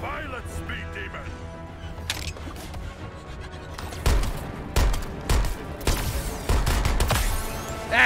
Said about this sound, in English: You like it when I riddle you full of bullets, Barry?